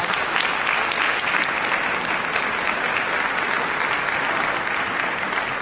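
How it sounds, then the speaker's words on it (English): A large audience at a Cleveland State University doctoral ceremony bursts into loud, sustained applause, thick continuous clapping filling the hall with a few sharper claps standing out, no voices over it. "Let's show them a huge round of applause with gratitude"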